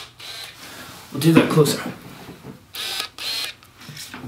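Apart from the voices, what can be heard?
camera lens autofocus motor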